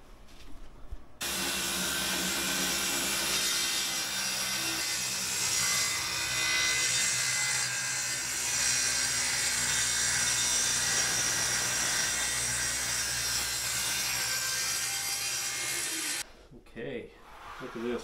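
A power saw runs steadily through 3/8 plywood laminations for a boat skeg, a continuous loud cutting whine lasting most of the stretch, starting abruptly and stopping near the end.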